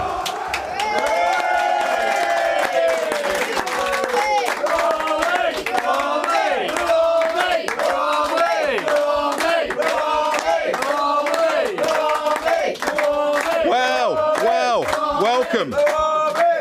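A home football crowd cheers and chants in unison before a match against West Brom, a loud, continuous wall of voices with rhythmic shouted chant phrases repeating throughout.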